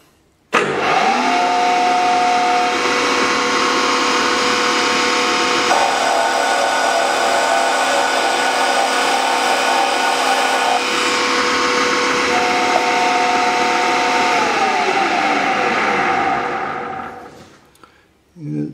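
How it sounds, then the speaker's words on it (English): A Bridgeport milling machine drills a hole, its motor and spindle whirring loudly and steadily for about fifteen seconds with a shift in pitch partway through, then winding down and stopping. "So the first thing we're going to do is just drill a hole."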